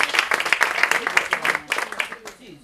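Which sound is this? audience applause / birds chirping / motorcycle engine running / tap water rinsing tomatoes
audience applause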